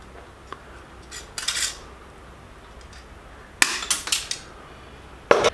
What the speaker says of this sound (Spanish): vamos a martillar